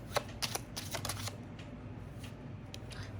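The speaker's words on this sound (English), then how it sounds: "And we'll do shuffling in a different way." Tarot cards being shuffled by hand in quick bursts of crisp, close riffling and flicking, then a softer steady rustle, quiet and alone.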